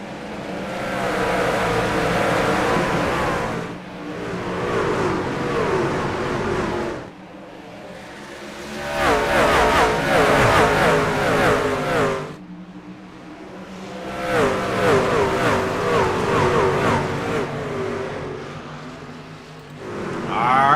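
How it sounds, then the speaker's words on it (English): Race trucks in an iRacing truck series event at Bristol roar off the green flag, a dense engine drone that swells and fades in long waves, loud and continuous without talk. "So Justin Aniscock again, as the leader, he's the first one on the loud pedal, so he gets the opportunity to get just a little bit of a gap"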